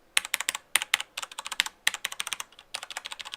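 A Corsair Vengeance K70 mechanical keyboard with Cherry MX Red switches is typed on close up, giving rapid, uneven bursts of crisp key clicks and clacks with a couple of brief pauses.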